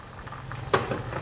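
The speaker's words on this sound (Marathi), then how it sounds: "आणि ही फोडणी यामध्ये टाकूया" Hot tempering of spices in oil poured into a pot of South Indian sambar, a sudden sharp sizzling burst that flares and then settles into a soft, low hiss, fairly faint and alone.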